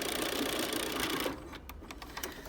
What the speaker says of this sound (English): we're just going to sew straight on that line we drew